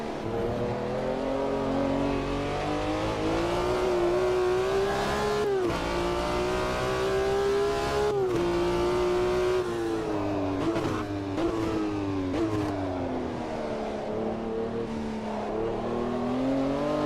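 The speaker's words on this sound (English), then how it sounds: "There's another car coming behind, let's let him go." Race car engine in the Automobilista 2 sim racing game, a steady loud revving drone with shifting pitch and brief gear-change dips, another car's engine approaching and passing close behind.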